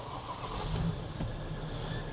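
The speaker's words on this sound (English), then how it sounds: "Spin her over, make sure that oil is going around the engine." A Ford Transit Custom van's engine cranks over and catches after repair work, settling into a steady idle hum with a brief rise, heard close up and with no talking.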